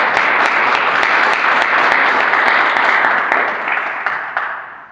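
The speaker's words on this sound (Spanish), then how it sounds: "Un aplauso para él, por favor." A room full of people gives loud, dense applause to a Dominican provincial at a student end-of-term event, a continuous close wash of clapping that begins to thin and fade near the end.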